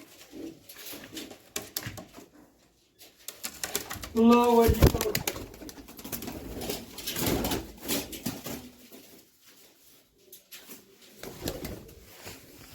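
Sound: pigeons cooing

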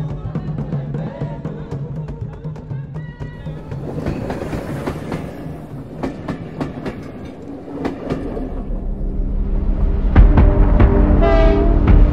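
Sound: Rovos Rail Pride of Africa train running

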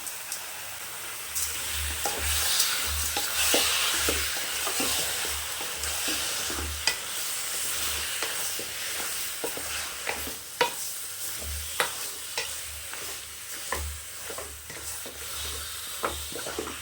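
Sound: mutton being stirred and fried in oil

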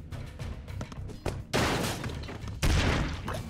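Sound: gunfire in the video game Broforce

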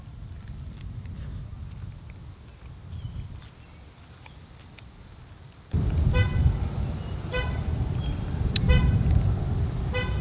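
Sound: car horn beeping

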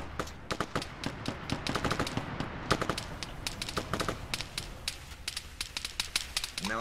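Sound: gunfire in video game Arma 3

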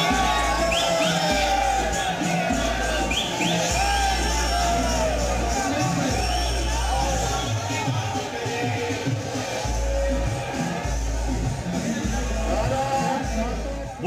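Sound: crowd cheering and chanting Jai Shri Ram at rally

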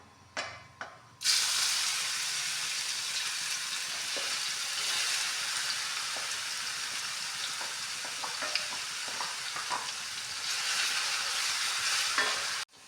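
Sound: garlic sizzling in hot oil

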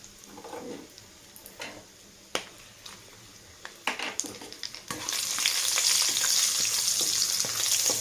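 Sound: green chillies and biryani spices frying in a pan

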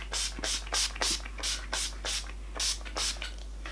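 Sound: makeup setting spray being sprayed on the face

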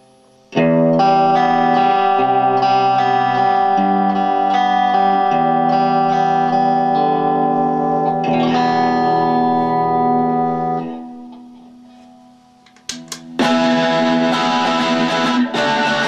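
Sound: distorted electric guitar playing

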